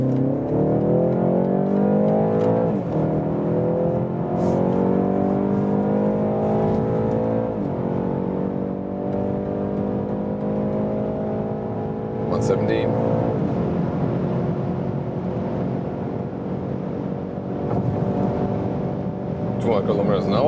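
A BMW 330i accelerating hard in Sport mode, its engine note climbing in a steady rising drone with gear changes heard from inside the cabin; someone talks over it throughout.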